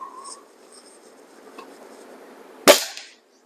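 A Diana Model 34 spring-piston air rifle, being tested after a reseal, fires one sharp, loud crack near the end, preceded by quiet room tone and a faint background hum.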